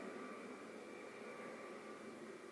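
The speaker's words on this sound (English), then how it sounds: "That airplane is loud as fuck." A loud airplane passes overhead, a steady broadband roar with a constant engine whine holding evenly throughout, heard alone without talk.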